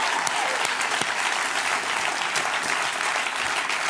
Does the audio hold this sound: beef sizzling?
no